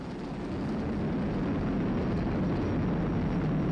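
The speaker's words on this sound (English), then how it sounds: "Flying crew on board Dragon and Falcon 9, and look at them go!" A SpaceX Falcon 9 rocket carrying a crewed Dragon capsule climbs about 20 to 30 seconds after liftoff, its deep, broad, continuous roar steady and distant, rising slightly in loudness at the start and holding without a break.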